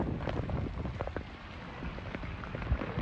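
Steady summer rain falling in a village, a dense broadband patter of drops with occasional louder splashes close by, no voices.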